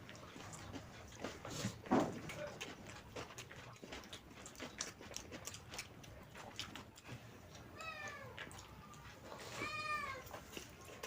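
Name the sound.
cat meowing, unable to open gate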